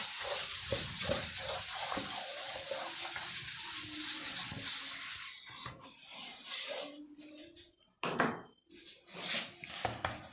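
Vigorous rubbing and wiping of a classroom board during a maths lesson, scratchy strokes in uneven bursts with short pauses, loud and close, no voice over it.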